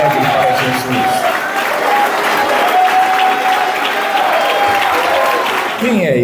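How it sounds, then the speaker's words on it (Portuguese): Joyful church congregation applause during a worship service, loud sustained clapping with a musical tone and voices mixed underneath, ending with a sudden drop. "dá uma salva de palmas bem alegre para Jesus"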